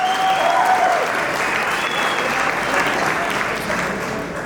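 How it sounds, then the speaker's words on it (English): A crowd at an evening business awards gala applauds in a full, sustained wash of clapping that fades slightly at the close, with a brief tone heard early on. "Give yourselves a round of applause."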